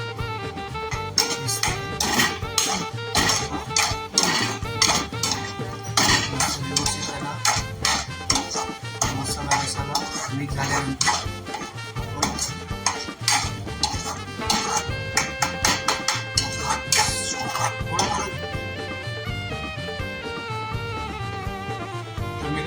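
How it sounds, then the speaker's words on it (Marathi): A spoon clinks and scrapes steadily against a bowl while red masala, turmeric and salt are mixed for stuffing crabs, a busy run of sharp metallic taps and rattles. "लाल मसाला हलद आणि मीठ आपण त्याने ॲड केलेलं आहे मिक्स करून घेऊ"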